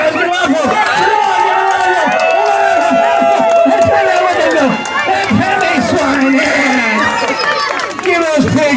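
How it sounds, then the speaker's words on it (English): A lively crowd at a barnyard animal race shouts and cheers loudly as racing pigs run, with children's whoops and an announcer's voice mixed into the continuous, dense roar. "Come on, cheer them on, guys."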